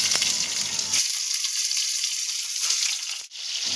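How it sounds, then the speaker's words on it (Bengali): Stuffed pointed gourds (potol) hit hot oil in a kadai, giving a steady broadband sizzle and crackle that runs loud and close for the whole stretch, with a brief dip near the end. "তেলটা গরম হয়ে গেছে এবার আমি পটলগুলো তেলের মধ্যে দিয়ে দিলাম"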